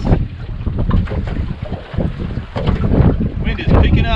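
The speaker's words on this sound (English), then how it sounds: "Wind is picking up, man." Strong wind buffets a fishing boat offshore near Jacksonville, Florida, a loud, continuous roaring rush with gusting surges and water wash throughout.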